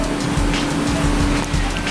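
A Ford Focus rental car driving in Tampa, with steady engine drone and broadband road and tire noise heard from inside the cabin, loud and continuous.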